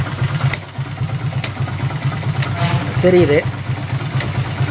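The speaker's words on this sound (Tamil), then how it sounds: "வண்டி ஸ்டார்ட் பண்ணுறோம், கியர் போட சொல்கிறோம், கியர் போட்டாச்சு" A Hero or Honda motorcycle engine idles steadily with a low, even throb throughout, a brief rising note near the end, while someone talks over it.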